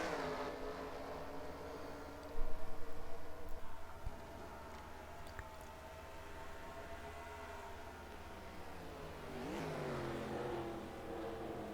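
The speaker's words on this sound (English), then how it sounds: "Taking them all down a gear, heading into turn 6." Engines of race cars on the Watkins Glen circuit in a racing video game, rising and falling in pitch as they shift gears, with a loud rough burst early and a steady drone after, no voices.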